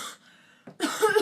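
A short cough-like burst with a throaty rasp, voiced close up and seemingly imitated rather than a real cough, after a brief quiet pause.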